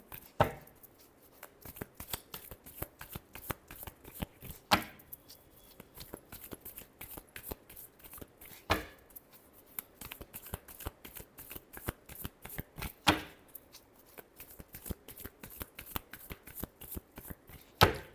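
Tarot cards being shuffled by hand, a rapid run of soft riffling flicks with a few sharper slaps at intervals, quiet and close with no talking.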